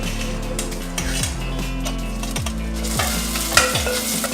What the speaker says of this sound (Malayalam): ഇതിലേക്ക് ചതച്ചു വെച്ചിരിക്കുന്ന വെളുത്തുള്ളിയും ഇഞ്ചി ഇടാം.